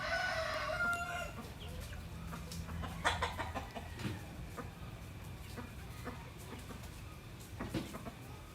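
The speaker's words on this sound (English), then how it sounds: "Natami, I'm sure the chickens were singing with you. But do you hear them" Chickens in a provincial Philippine yard at feeding time, a rooster crowing loudly at the start over a busy background of clucking hens, the commotion continuing at moderate distance.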